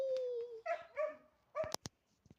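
Several dogs bark and yip in short bursts, the loudest coming close together near the end, with sparse gaps between them and no talk over the barking.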